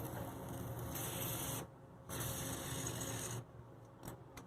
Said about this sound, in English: I'm spraying it right around the perimeter of the drain here